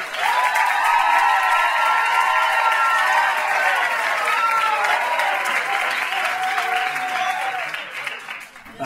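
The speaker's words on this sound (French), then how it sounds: "je vous demande de l'applaudir vigoureusement, Maxime Forbes" A large audience at a singing competition semi-final applauds loudly and steadily, with scattered cheers mixed in, and the clapping tapers off near the end.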